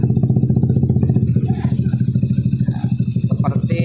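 Honda Beat FI scooter engine idling steadily after a CVT repair with a replaced crankshaft, a close, even putter with a regular pulse throughout and faint clatter, no talking over it.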